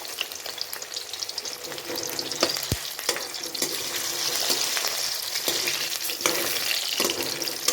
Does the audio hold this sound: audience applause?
no